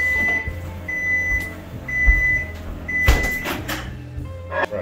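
A microwave oven melts butter in a travel-size 24v oven kitchen setup, its steady low hum running under clatter, with repeated short beeps and a few knocks and clunks nearby.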